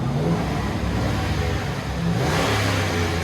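A cammed 2009 Chevy Silverado Z71 5.3-liter V8 with true dual Dynomax Bullets exhaust revs loudly and steadily nearby, its throaty rumble swelling toward the end.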